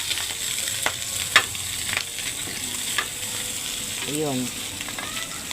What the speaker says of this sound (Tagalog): Mikos-mikos ko na yung bawang.